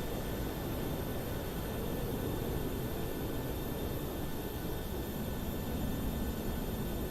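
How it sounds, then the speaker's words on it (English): A Saudi airliner taxiing for departure toward runway 33 right in Microsoft Flight Simulator, heard as a steady, broad jet engine rumble and hiss that stays constant throughout with no voices. "There's the Saudi aircraft there heading for departure"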